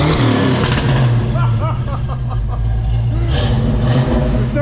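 A bone-stock Ford Fox Body Mustang V8 idles and blips through a new Flowmaster exhaust, a deep, loud, rumbling burble with slight revving, while people talk nearby.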